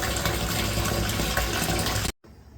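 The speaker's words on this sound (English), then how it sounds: "I may actually just fill this up in the bathtub because my kitchen tap is horrible" Tap water gushes into a canner pot set in a bathtub, a loud, steady rush that runs for about two seconds and then cuts off abruptly, leaving a faint quiet tail.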